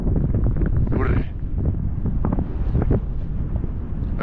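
Heavy wind buffets the microphone of a bicycle rider on an open desert road in the Grand Erg Oriental of Algeria, a loud, constant low roar with gusty surges and faint voice-like sounds mixed in.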